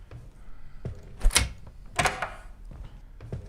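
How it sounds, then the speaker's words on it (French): A door opens in the horror video game Blame Him with two distinct creaking thunks, close and moderately loud, against a quiet background. "On va aller ouvrir cette porte."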